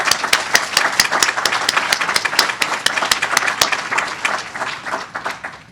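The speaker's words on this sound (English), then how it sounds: "if we could give them all a round of applause" A forum audience applauds event staff, a loud, sustained round of clapping with sharp individual claps repeating rapidly and irregularly, fading slightly near the end.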